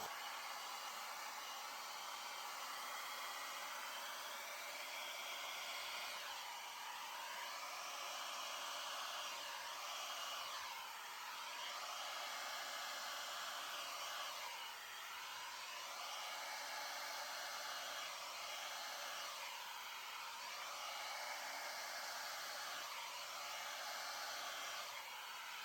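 A hair dryer on its high, cool setting blows over an acrylic paint pour on a lazy Susan, a steady, faint rushing whoosh that runs throughout with slight periodic swells.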